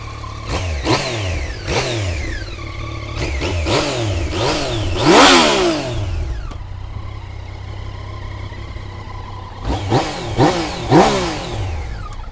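Stock Yamaha MT-09 version 2 motorcycle engine started up close, then blipped through a series of sharp rising and falling revs over a steady idle, with a pause before another burst of quick throttle revs.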